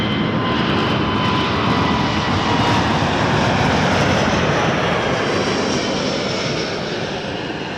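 An airplane comes in to land at Toronto Pearson, its engines a loud, close, continuous roar that eases slightly toward the end, with no voices.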